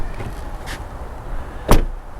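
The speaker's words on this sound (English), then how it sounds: "Door sound check." A 2023 BMW X3 M40i door heard from inside the cabin: a soft click early on, then one solid closing thud, all over a low background hum.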